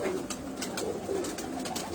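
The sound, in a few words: pigeons cooing, checkered pigeons sitting on eggs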